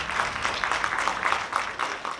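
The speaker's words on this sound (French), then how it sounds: "Digne de tous vos applaudissements, s'il vous plaît." Audience applause at an Infinix Note 4 and Note 4 Pro launch event: steady, fairly distant clapping from a crowd, with no voices over it.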